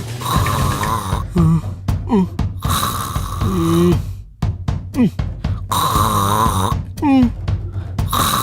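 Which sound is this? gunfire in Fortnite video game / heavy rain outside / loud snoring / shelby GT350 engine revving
loud snoring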